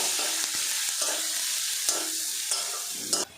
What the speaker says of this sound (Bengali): পেঁয়াজটা আমি ভাজা ভাজা করে নেব।